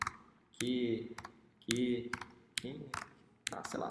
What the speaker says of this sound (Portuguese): vou digitar qualquer número aqui.